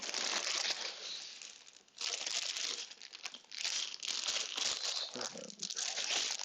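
Plastic bags of LEGO pieces crinkling loudly and continuously up close as pieces are sorted, with brief dips between bursts and a voice faintly under the rustle.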